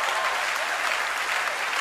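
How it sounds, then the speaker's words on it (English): Audience applause at a lively church event, a dense continuous clapping from a large crowd, loud and steady throughout the short burst. "But please, a round of applause for church."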